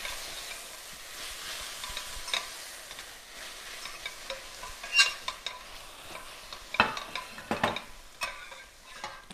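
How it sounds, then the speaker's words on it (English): Chopped onions sautéing in a pan for an egg curry, a soft steady sizzle with scattered stirring scrapes and ticks of a utensil against the pan, fairly quiet and close with no talking. "my onions have gone into my pan and I'm just going to start to saute those"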